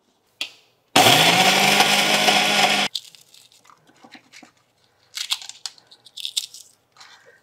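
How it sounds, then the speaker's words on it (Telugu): Mixer grinder (mixie) grinding cumin and spices, a loud, close whirring burst of about two seconds that stops abruptly, followed by quieter scraping and rustling sounds. "జీలకర్రని దంచుతాను కదా ఇప్పుడు, అందుకని మిక్సీ పడతా"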